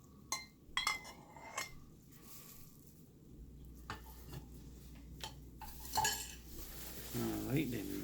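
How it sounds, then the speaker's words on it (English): Bread stuffing with celery and broth stirred in a bowl, with a series of close, sharp utensil clinks and scrapes against the dish, spaced irregularly over soft background noise, with a brief louder clatter near the end. "Alright, then mix this around."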